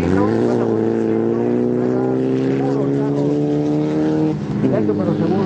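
A rally race car accelerates out of a curve and climbs a hill, its engine holding a loud sustained drone that shifts pitch near the end, close by and continuous.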